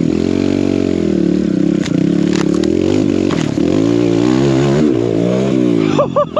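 An enduro dirt bike engine held at full throttle, loud and close. It gives a steady high roar that wavers with the terrain, along with scrapes and clatter, then ends in a brief rising rev.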